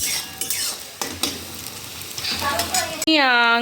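Carrots and vegetables frying in a pan for chow mein, with a steady sizzle and repeated scraping, clinking stirs of a utensil, close up, and a voice breaking in briefly at the end.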